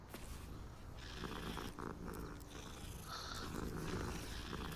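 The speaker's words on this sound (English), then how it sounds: "It's purring." A cat purrs while being petted in the Hogwarts Legacy video game, a soft, steady rhythmic rumble heard up close and alone for several seconds.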